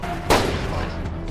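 A single sharp gunshot cracks loudly in a film scene of a fleeing man firing at police, followed by a fading echo and faint further reports under a steady background.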